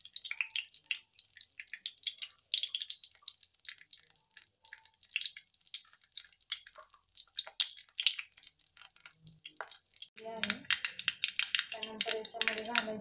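Mustard seeds crackling and popping in hot oil while tempering for amti, a dense run of fine spattering pops throughout that swells into a louder, fuller burst of sizzling near the end.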